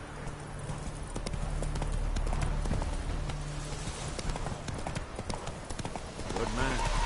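Roach, a horse in the video game Witcher 3, gallops with rapid, steady clip-clop hoofbeats close up, a low rumble underneath and a brief whinny-like tone near the end.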